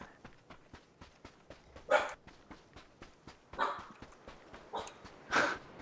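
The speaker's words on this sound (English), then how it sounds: "Yeah, she's barking at my brother" A dog named Gaia barks at a person in a series of sharp, fairly close barks, with a few louder ones standing out among softer yips.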